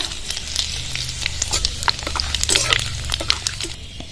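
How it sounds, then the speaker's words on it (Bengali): Bay leaves and dried red chilies with a five-spice mix crackle in hot mustard oil in a kadai, a loud, close, continuous sizzle dotted with sharp pops and spits, with no talking. "তেজপাতা আর শুকনো লঙ্কা ফোড়নে দিয়ে দেবো"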